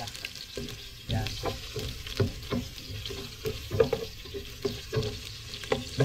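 Ginger frying in oil for chicken tinola, a continuous close sizzle broken by repeated stirring scrapes and clacks of a spoon against the pan.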